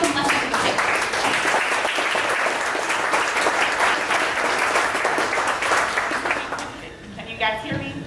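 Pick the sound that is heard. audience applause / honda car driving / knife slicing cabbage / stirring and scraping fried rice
audience applause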